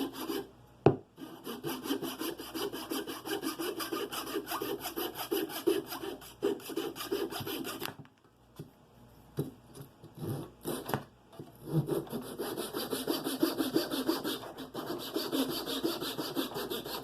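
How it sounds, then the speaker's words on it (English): A small hand pull saw cuts through wood in a mallet build, rasping in quick regular strokes at close range, with a brief pause midway before the rhythmic sawing resumes loud and steady. "And this is a little pull saw. So I'm going to cut these both sides off real quick"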